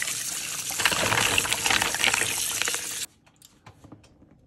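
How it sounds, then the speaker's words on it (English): Hot tap water runs steadily for rinsing mussels in a kitchen, a fairly loud splashing gush that stops abruptly, leaving faint drips and clatter. "Rinse it with tap water?"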